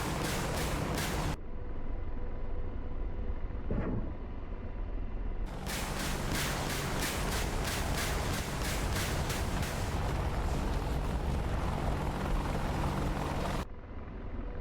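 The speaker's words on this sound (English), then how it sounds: "We've shot the cannon, we've shot the rockets." AH-64D Apache helicopter in DCS firing its cannon and rockets, heard as a long, dense, loud roar of rapid repeated bursts over steady rotor and engine drone, with brief pauses between volleys.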